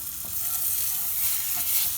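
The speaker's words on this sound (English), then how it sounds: "Great sizzling sound coming up" A steady, fairly soft sizzle of gozleme flatbread frying in hot olive oil, with a continuous hiss and faint crackling.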